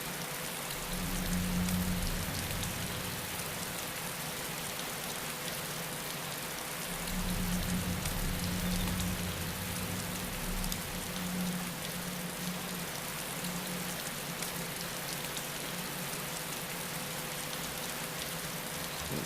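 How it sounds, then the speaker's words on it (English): Steady rain falling in the survival video game DayZ, a constant broadband hiss of raindrops holding evenly for the whole stretch, with a faint low rumble rising and fading in the background. "It's raining again, so it's going to make it a lot easier to come down here"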